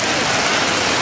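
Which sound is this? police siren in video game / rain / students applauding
rain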